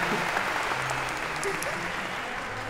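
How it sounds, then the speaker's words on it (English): A lecture-hall audience at Harvard's CS50 intro computer science class applauds a volunteer coming up on stage: dense, steady clapping from many hands, fairly loud and unbroken for the whole stretch. "A round of applause for Aviva for coming on up."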